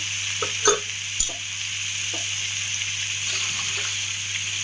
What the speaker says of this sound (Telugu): పైన కొంచెం ఆయిల్ వేస్తున్నాము.